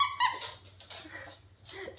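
A small carrot-shaped squeaky pet toy gives a few short, high squeaks, one at the start and more spaced through the clip, close and moderately loud, over a low steady hum.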